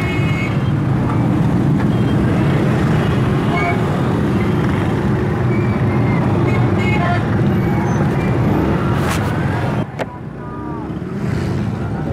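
Dense city traffic jam at a crossing near a college road and market, with a constant loud roar of engines and scattered horn blasts close by, easing slightly near the end.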